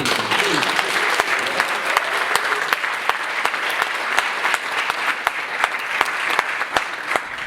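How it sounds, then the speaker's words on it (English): An audience at an event on ancient Kemet gives a sustained round of applause, dense steady clapping that fills the space with sharper individual claps popping out on top, with no speech over it. "Give him a round of applause"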